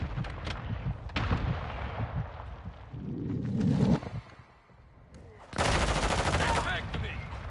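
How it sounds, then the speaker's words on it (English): Mortar strike in a Call of Duty multiplayer match, with loud booming impacts and rattling gunfire, a brief lull, then a dense, sustained barrage of explosive crashes. "Mortar strike on the way."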